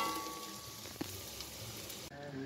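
Lentil and onion fritters fry in a pan of oil with a soft, steady sizzle, heard alone at low level, with one faint tap partway through.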